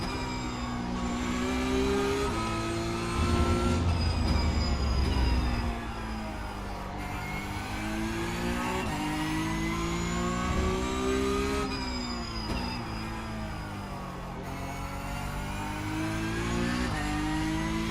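A Porsche Cup race car in the iRacing sim at Zandvoort revs and shifts continuously, the engine note climbing and dropping through the gears, loud and steady with no talk.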